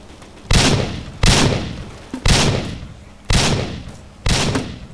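Five heavy, booming shots from an explosive gun in the Roblox game Edward the Man-Eating Train fire at a steady pace, each a sharp blast with a short decaying tail over a low background hum.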